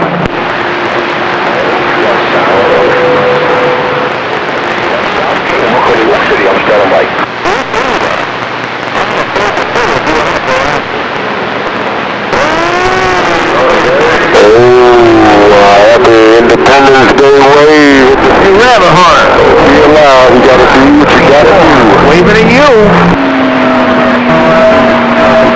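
Tires squeal on a car doing a burnout at a drag strip, loud and continuous with rising and falling squeals over engine roar, under crowd noise.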